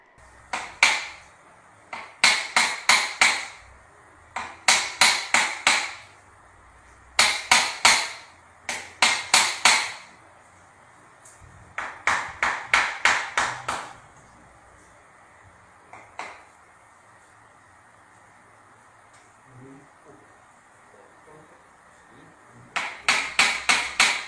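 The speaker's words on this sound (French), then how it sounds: "le praticien vient à l'aide d'un burin traiter la zone incriminée" A hammer striking a chisel, used by a practitioner on a bone treatment area, sounds as bursts of rapid, sharp metallic taps in quick runs of four or five, separated by pauses.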